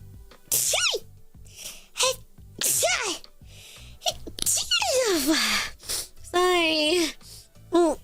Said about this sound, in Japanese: ごめんくしゃみ